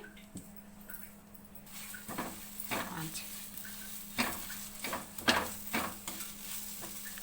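Mint leaves and green chilies frying lightly in oil for pudina rice, with faint sizzling and scattered stirring clinks of a utensil against the pan, fairly quiet and close.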